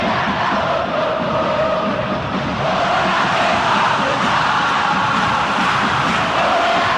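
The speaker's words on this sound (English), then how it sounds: "Crowd appreciates good football all round there." Stadium crowd in the eFootball video game during a Brazil versus Indonesia World Cup match, a loud, steady roar of cheering that holds for several seconds without letting up.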